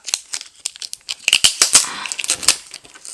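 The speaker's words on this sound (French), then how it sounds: "on va tout de suite ouvrir le petit scotch qui est là" Packing tape is torn and peeled off a GoPro Hero3 box in a quick series of sharp ripping and crinkling bursts, close to the microphone.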